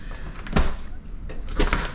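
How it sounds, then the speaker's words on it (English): A patio door at a small off-grid cabin opens in two short bursts of sliding and rattling, close and fairly loud, with a pause between them and no talk. "I love opening my patio door."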